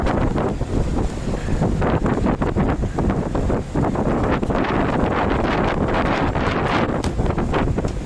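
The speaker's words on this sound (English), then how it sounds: "Sorry if the wind is killing us." Heavy wind buffeting a microphone inside or around a truck in Wisconsin, a loud, continuous roaring rush with gusty bursts throughout and no speech.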